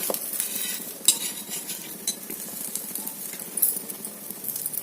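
A utensil stirs and scrapes bread omelette batter in a pan, producing steady rhythmic clinks and scraping strokes with a faint sizzle beneath, close and moderately loud, with no talking.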